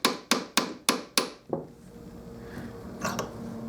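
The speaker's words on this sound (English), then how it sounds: "I'm going to tap this as I'm turning it around" Dented brass trombone mouthpiece seated on an arbor and tapped with a small hammer, six sharp ringing metallic taps in quick regular succession, followed by faint quieter knocks.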